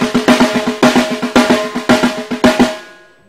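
A drum roll played right-left with accents and ghost notes gives a quick run of sharp strokes on a drum. Louder accented hits fall among softer taps in clustered bursts, close and alone, and the roll ends on a ringing decay.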